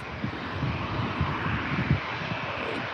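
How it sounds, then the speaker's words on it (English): An airplane takes off at Manchester Airport, a steady broadband jet roar heard from some distance, continuous and moderately loud with slight wind buffeting and no speech. "Trying to keep the camera, the plane staying in the centre, obviously until it takes off."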